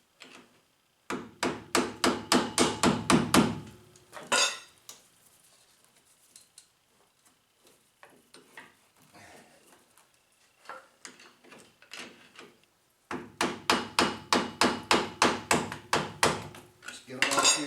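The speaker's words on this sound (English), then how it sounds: "Just give it a few taps, turning it." Rapid bursts of metallic taps strike a part as it is turned, two clusters of quick hammer hits at start and end with quieter handling and shuffling in between, close and sharp.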